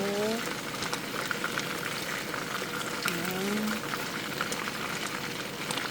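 Chicken cooks slowly in a little olive oil, giving off a steady, even sizzle and bubbling with no break, while a voice speaks faintly under the noise.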